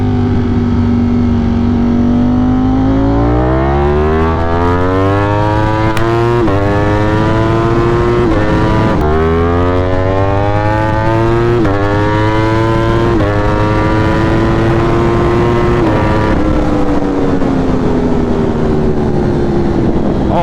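Ducati Streetfighter motorcycle accelerating hard on a crisp morning ride, the engine note climbing through several gear changes with brief dips between shifts, loud and close throughout, no talking.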